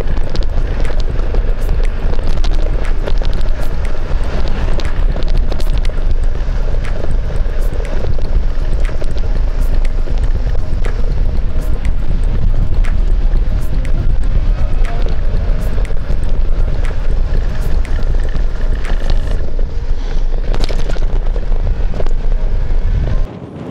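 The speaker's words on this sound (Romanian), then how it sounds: "Mai e și un vânt" Strong wind buffets the microphone in a constant loud roar on a riverbank, with gusty low rumbling and occasional crackles, lasting over twenty seconds without talk.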